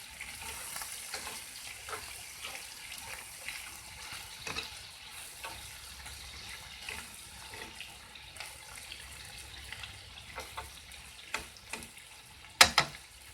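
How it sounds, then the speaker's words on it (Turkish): Spleen sizzles steadily in a hot pan, a constant hiss scattered with small pops and crackles, with a few louder sputters near the end. "Kızartıyorum."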